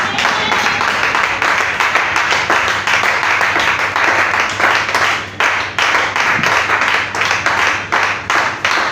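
A church congregation claps and applauds together, a loud, dense run of rhythmic hand claps that carries on steadily with brief dips, with voices faintly mixed in underneath.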